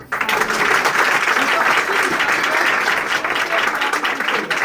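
A church congregation claps loudly and steadily, a dense sustained wash of hands that fills the whole stretch right from the start.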